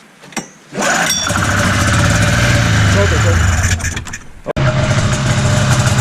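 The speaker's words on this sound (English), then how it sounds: "Well guys, we got the Indy running." A Polaris Indy Sport 340cc snowmobile engine catches after a brief pull and keeps running loud and steady at close range, with a short dip near the end before it picks back up, and some voices in the background.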